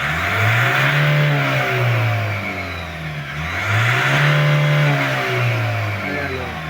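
A 2021 Ford Ranger Raptor engine revs up twice from idle, each loud, rising roar holding briefly before falling back, with no talking over it.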